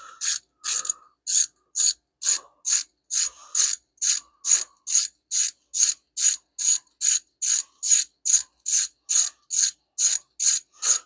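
A 1/4-inch ratchet turns a 10 mm socket on a 5.7 Hemi engine, giving about twenty crisp, evenly spaced clicks close by, with no talk.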